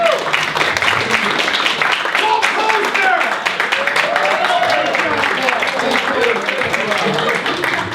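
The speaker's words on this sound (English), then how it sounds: "Give him a round of applause for just getting up here." A comedy club audience applauds after a comedian's set, a loud, continuous wave of many hands clapping with cheers and voices mixed in throughout.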